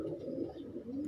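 A breeder's pet pigeon coos once in a low, rolling, throaty burst, close by and steady with no talking.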